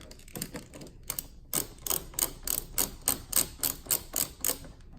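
Screws being removed from an OEM accessory on a Honda Accord: a run of sharp, rhythmic mechanical clicks and ratchets, about a dozen close, evenly spaced bursts with no talk.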